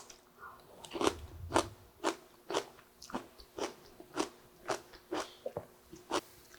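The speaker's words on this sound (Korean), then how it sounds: "들리시죠? 엄청 아삭아삭해요." Crisp, crunchy chewing of pickled mustard greens, with about a dozen bites and crunches in a steady rhythm, close and fairly quiet, with no talking.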